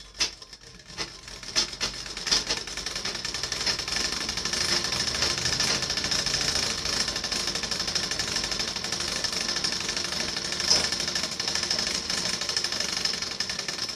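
A sewing machine stitching lining into a blouse, a fast steady mechanical rattle running throughout after a few brief starting taps, close and fairly quiet.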